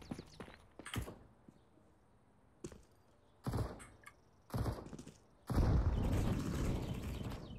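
Gunfire in a shooter video game: sharp, isolated shots and thuds with gaps between them, ending in a louder sustained burst of blasts and rumble.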